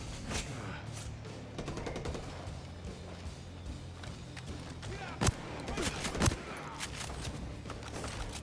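Pistol shots traded in the video game Ghost Recon Breakpoint, heard as scattered sharp cracks with two louder close reports near the end, set against busy low-level game noise.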